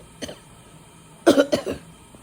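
A post-op day two patient recovering from thymus (mediastinal mass) surgery gives a short series of close, strained coughs, one faint cough followed by three quick bursts, in a quiet room without talk.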